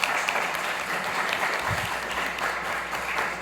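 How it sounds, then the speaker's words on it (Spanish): Steady, dense applause from an audience at a fashion-and-sustainability workshop, welcoming a female deputy. The sustained clapping stays even and fills the whole stretch, with no voices standing out. "Le damos un cordial aplauso a nuestra diputada Ceci Vadillo, por favor."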